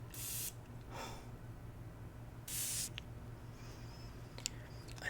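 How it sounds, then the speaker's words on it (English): A Club de Nuit Ruby Edition perfume bottle sprays in three short, close hissing bursts spaced apart, in a quiet room with faint handling clicks and no speech. "I'll give you a spray"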